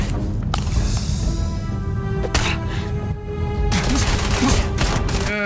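Rapid bursts of gunfire from a gun in the video game Starfield, loud and close, with sharp cracks and fusillades set against a droning background soundtrack.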